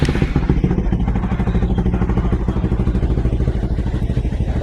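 Bajaj Pulsar NS200 motorcycle engine fitted with an NGK iridium spark plug runs close and loud in a steady, even idle-like chug with a faint clattery edge, no voices over it.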